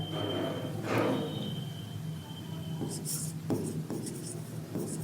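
A pen scratches across paper while columns are ruled and written for accounting journal entries, with soft, close strokes and brief pauses between them against a quiet room background.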